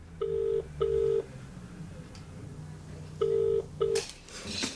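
A telephone number is dialed, sounding as four short touch-tone beeps in two pairs with a pause between them, clear and close over quiet room hiss, just before a call to a relative.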